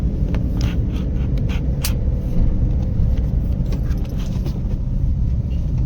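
A car in second gear on a driving lesson gives a steady, close engine rumble with road noise that runs throughout. A few light rattles sound in the cabin, and no one speaks.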